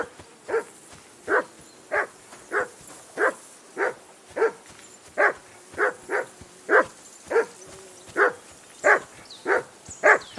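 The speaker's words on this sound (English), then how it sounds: "Be quiet, you bleeding hound." A dog barks repeatedly in the medieval open-world video game Kingdom Come: Deliverance II, giving a steady string of about seventeen short, evenly spaced woofs at moderate distance with no talk in between.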